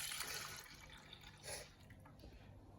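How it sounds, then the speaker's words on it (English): Milk poured into a pot while baking buns, a soft trickling liquid stream with light splashes, quiet and close, steady for a few seconds. "Pouring the milk in the pot"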